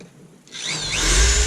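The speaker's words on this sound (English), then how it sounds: "nothing like drilling into steel with titanium coated steel right above a fuel tank" A power drill whines up from quiet and grinds steadily into steel above the fuel tank of a 1999 Kia Sportage, loud and close, with a rising metallic screech.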